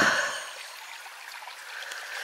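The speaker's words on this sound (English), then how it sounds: "There's the Babbling Brook now, getting a bit bigger." A babbling brook in a coombe in the Quantock Hills flows with a steady, gentle rushing trickle that stays close and even throughout, with no voices.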